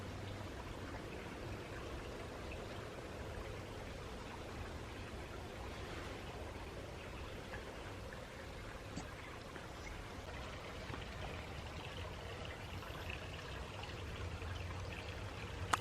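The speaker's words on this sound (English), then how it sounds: "This is the long stream, as we call it," A garden stream runs through a jungle garden into a pond, a soft continuous trickle and babble of water, fairly faint and steady throughout with no talking.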